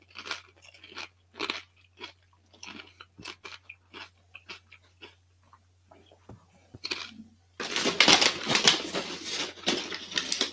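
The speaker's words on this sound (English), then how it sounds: "Tell me if I'm crunching too loud" Loud, close crunching from someone eating a crisp snack, a dense burst of chewing and biting that follows a stretch of quieter clicks and soft sounds.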